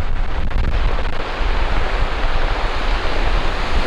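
Ocean waves along the Gyeongju Yangnam coastal walking trail near Eupcheon port, a loud, steady surf wash with rolling low rumble and brief swells, no voices.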